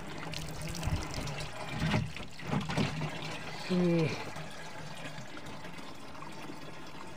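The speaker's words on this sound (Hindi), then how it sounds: "ये हम पानी भर रहे हैं यहाँ पर।" Water trickling and filling containers from a self-made tap fed from inside a tree, faint and near, with brief splashy bursts as vessels fill, under scattered speech.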